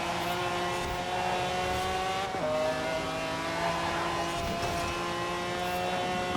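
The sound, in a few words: race cars in Forza Horizon 4 video game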